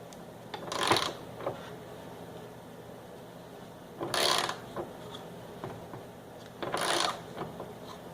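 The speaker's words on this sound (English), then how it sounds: "I'm going to try to hold this wrench with my leg and turn the ratchet." A ratchet wrench turns a nut on a Mercedes W163 ML running board mount, giving three short bursts of rapid clicking spaced a few seconds apart, close and clear with no talk.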